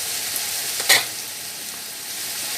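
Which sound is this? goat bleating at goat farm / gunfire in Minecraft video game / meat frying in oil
meat frying in oil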